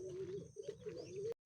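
Racing pigeon arriving at its home loft after a San Quintin training release gives a steady, close cooing call with soft chirps over a low background hum, ending abruptly.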